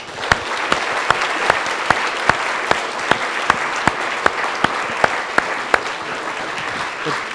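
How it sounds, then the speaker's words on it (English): Audience applause for the speakers at a cosmology colloquium: dense, steady clapping from a room full of listeners, with sharper individual claps popping out at a fairly regular pace throughout. "I want to give a very quick round of applause for all our fantastic speakers"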